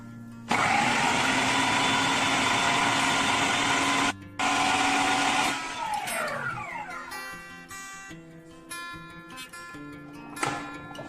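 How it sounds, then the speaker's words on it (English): A food processor blends drained cottage cheese into cream cheese, a loud steady whirring motor that cuts out briefly, restarts, then stops, followed by fainter clattering and ringing kitchen sounds. "Now I am closing the lid and starting this food processor."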